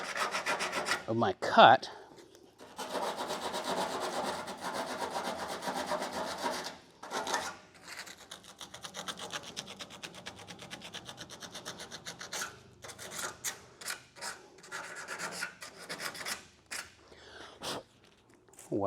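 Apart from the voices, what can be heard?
cleaning the cut edges of lead flashing layers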